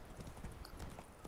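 Roach the horse's hooves clip-clopping in The Witcher 3 video game, a quick irregular patter of hoofbeats under game background noise, fairly faint and brief.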